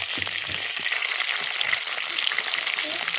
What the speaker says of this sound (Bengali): তো মাছগুলো তো আমার ভাজা হয়ে গেল, এবারে আমি তুলে নেব